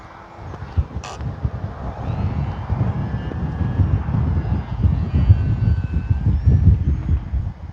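Steady low rumbling wind buffets the microphone, growing stronger, with the thin electric motor whine of an E-flite Sportix model plane faintly audible above it.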